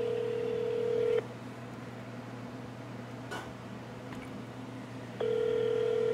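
A phone call to McDonald's begins with a steady telephone tone that cuts off, a few seconds of quiet line hiss with a brief blip, then the tone resumes, loud and close.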